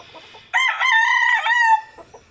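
Close and loud, a rooster lets out a single long crow, with softer clucking from chickens just before and after it.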